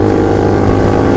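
A big motorcycle engine revs hard nearby in a loud, sustained roar at a street gathering of large bikes, with no talk over it.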